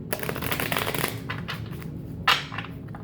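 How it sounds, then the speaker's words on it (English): Rapid riffling of cards being shuffled, a dense flurry of crisp flicks for about a second, then softer bursts and a sharp snap near the end. "Let's give it a couple more shuffles."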